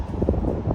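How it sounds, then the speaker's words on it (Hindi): Strong wind gusting across an outdoor microphone in Kuwait, a loud, low rumbling buffet that fills the short moment without any talk. "अरे बाप रे क्या हवा चल रही है।"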